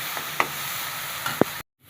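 Shrimp frying in hot oil in a pan, a steady soft sizzle with a couple of brief clinks of stirring, ending abruptly in silence.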